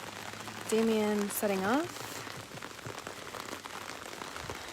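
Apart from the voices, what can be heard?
rain falling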